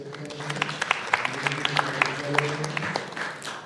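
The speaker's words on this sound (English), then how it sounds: "A clap for her, please." Audience at a Kenyan stage event gives a short, modest burst of applause, with scattered distinct claps standing out over a low hum and a voice talking underneath.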